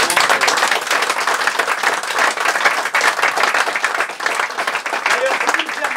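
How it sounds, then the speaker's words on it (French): A theatre audience gives sustained, dense applause, loud and continuous throughout, with a few voices mixed in among the clapping crowd. "Applaudissez-vous tous, un grand merci d'être venus."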